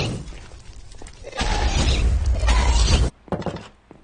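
A loud crashing, crumbling burst of breaking material lasts a couple of seconds, then cuts off, followed by a few lighter knocks and clatters.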